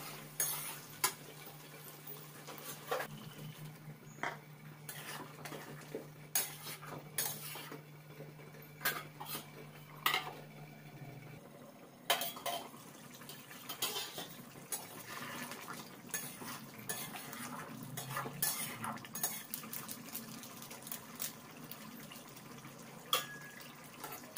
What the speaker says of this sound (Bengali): দেখুন কষা হয়ে গেছে, তেল বেরিয়ে গেছে। এবার আমি জল দেবো।